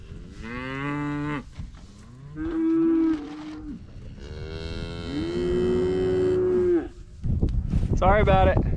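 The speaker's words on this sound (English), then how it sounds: "These cattle think I've got a feed when I shake the sack." Several cattle moo loudly and close by in long, drawn-out calls with short gaps between them, eager for feed at a rural fence line. A harsher burst of noise closes the sequence.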